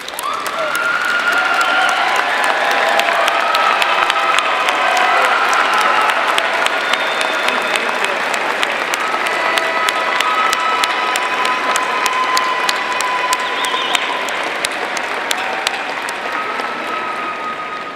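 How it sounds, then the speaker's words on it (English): Sustained applause with cheering from a crowd at a 2019 divisional recognition ceremony honoring graduates, dense and steady throughout at a consistent loud level, with a few voices mixed in. "join me in a round of applause"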